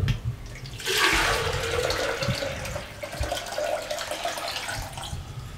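Water poured from a 2-litre jug into a cooking pot for beef paya, a rushing gush that starts abruptly, keeps pouring steadily and then tapers, with no one speaking.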